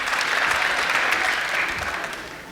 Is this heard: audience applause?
yes